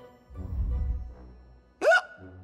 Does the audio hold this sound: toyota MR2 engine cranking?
no